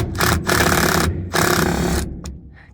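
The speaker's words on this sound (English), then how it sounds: "He's coming in here with the old impact driver and pulling all these screws" An impact driver pulls interior trim screws on a 7.3 IDI diesel race truck, producing loud, close bursts of rapid buzzing hammering separated by brief pauses, with a short final blip.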